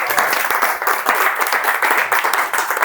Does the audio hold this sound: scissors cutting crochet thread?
no